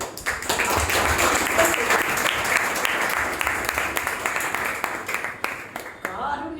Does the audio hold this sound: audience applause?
yes